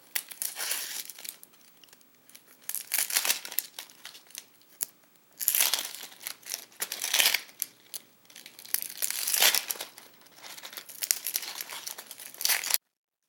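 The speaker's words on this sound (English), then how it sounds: "making a small cut into the peel itself, all the way around the onion, and then the peel easily comes off" Dry, papery onion skin being peeled off by hand after a shallow cut around the bulb, giving repeated close crinkling and tearing rustles in short bursts with brief pauses between them.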